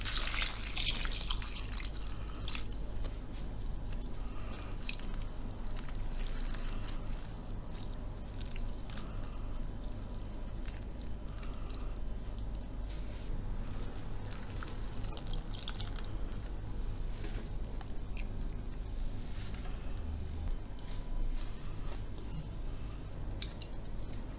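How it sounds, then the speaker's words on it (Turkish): Kanlıca mushrooms being rinsed under running water: a steady stream pours and splashes throughout, with dripping and soft squishing as the caps are handled, fairly close and with no talking. "Bir defa daha böyle bu şekilde yıkayalım"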